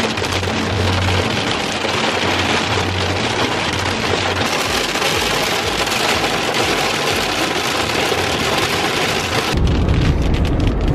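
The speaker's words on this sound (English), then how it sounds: "We're in the storm right now. Really hard to hear. I doubt you guys can hear us, but it is downpouring." Heavy rain pours down hard during a storm while driving on a road, a loud, continuous roar of drops drumming on the car, with a deeper rumbling surge near the end.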